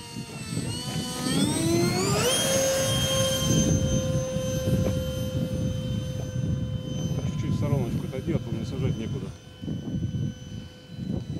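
A model jet aircraft on its maiden flight roars loudly, its turbine whine rising sharply in pitch as it climbs and then holding a steady high tone while passing, with people talking and exclaiming throughout.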